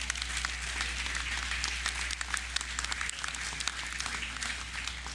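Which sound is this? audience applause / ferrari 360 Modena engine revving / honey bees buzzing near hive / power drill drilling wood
audience applause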